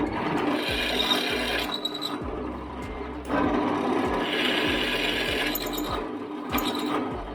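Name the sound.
drilling a 13 mm hole through metal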